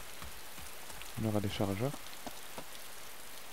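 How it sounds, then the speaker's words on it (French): Steady rain falls in a video game, a soft continuous hiss beneath someone speaking French, with a few scattered clicks. "vu qu'il pleut."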